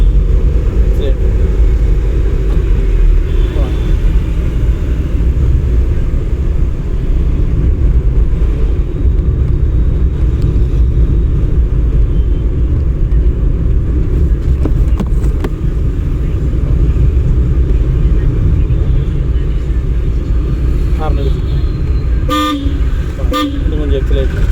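A car engine works in second gear during a driving lesson, giving a steady, close rumble that continues throughout. A voice talks over it, and a few short horn toots sound near the end.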